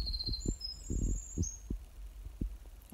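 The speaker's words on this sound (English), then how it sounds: "You hear the birds?" Birds sing on the Appalachian Trail in forest, with several thin, whistled high calls in the distance over soft low thumps and rustling close by.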